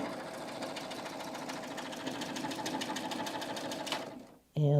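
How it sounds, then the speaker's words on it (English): Serger sewing off a fabric edge with piping in the seam, a loud rapid mechanical whir with fast even stitching pulses that runs steadily, then stops abruptly as a voice begins speaking. "Okay, and then I'm just going to sew off the edge."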